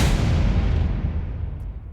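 An impact effect with noise layered over it: a broad, harsh burst that lands at once and then thins and fades over two seconds, heard alone.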